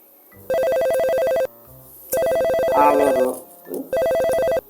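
A telephone rings in three loud electronic bursts, each a rapid warbling trill about a second long, separated by pauses with some faint other sounds in between.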